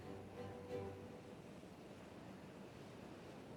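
Water pumped in during Timberborn gameplay, heard as a faint, steady rushing wash with a brief soft tonal hum near the start.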